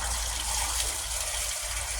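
Water gushes steadily into a plastic container punched with holes and tape over the bottom hole, a continuous rushing pour up close with no talk.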